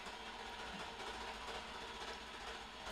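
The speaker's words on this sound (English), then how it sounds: "Which one of you two is currently on a fucking train?" Steady rumble of a train in motion, continuous and fairly even, with faint rail clatter. The sound is heard through a phone call, with no speech during this stretch.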